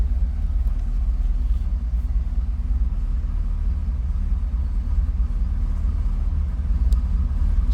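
A 1982 Chevrolet Camaro Z/28 with a small-block V8 runs at idle, heard from behind the car as a steady, deep, even rumble that stays constant throughout with no revving.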